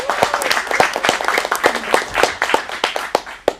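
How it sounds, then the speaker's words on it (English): Audience clapping at an adult acting studio showcase, a modest crowd with distinct individual claps in a brisk irregular rhythm, close and fairly loud, with a whoop early on. "Give a round of applause."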